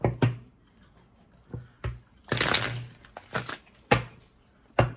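Tarot cards are shuffled for a reading in several separate bursts of riffling and soft slaps, close by, with quiet pauses between them.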